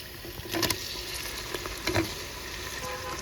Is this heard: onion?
yes